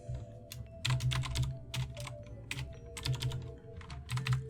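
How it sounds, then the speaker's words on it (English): Fingers type on a computer keyboard while coding Python, the keys clicking in quick bursts of several strokes with short pauses, close and alone over a faint background hum. "Kind of typing at a weird angle so that I can have my face close to the microphone"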